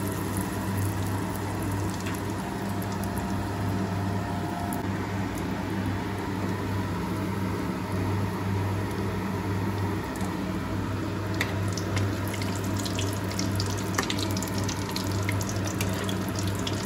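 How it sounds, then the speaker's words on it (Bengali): Vegetable chops fry in hot oil with a dense, even sizzle and bubbling hiss that holds steady throughout, close and fairly loud with faint pops. "তেল গরম হয়ে এসছে, আমি একটা একটা করে এবার চপগুলো ছেড়ে দেবো।"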